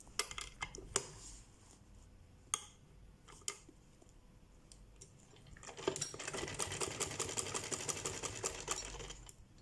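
A sewing machine stitches a crochet ribbon clutch. A few sharp clicks and taps come first, then a steady rapid run of stitching takes over for the last few seconds. The sound is close but fairly quiet, with no talk.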